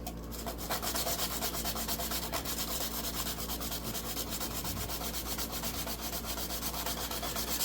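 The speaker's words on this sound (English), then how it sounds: "I'm just going to sand down the end a little bit" Sandpaper rasps in quick, steady back-and-forth strokes against the plastic end of an ARGB hub, a close, continuous scratchy rubbing with a fast even rhythm and no voices.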